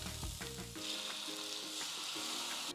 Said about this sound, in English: I'm gonna set the mushrooms in, and then we're just gonna put the onions around.